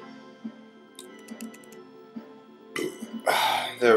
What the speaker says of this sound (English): Some foam burps there.